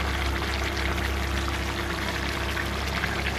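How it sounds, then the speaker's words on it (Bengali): Water pours steadily into a cooking pot of boiled potatoes and figs for a fig curry, a continuous close splashing stream that lasts the whole moment with no voices. "আমি এবার জল দিয়ে নেব। খুব বেশি জল দেব না"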